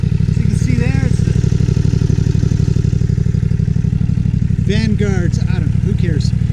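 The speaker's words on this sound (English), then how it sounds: "It's just a little tractor." A small tractor with a Vanguard engine, used on a horse property, chugs steadily at a close, even idle while someone talks over it.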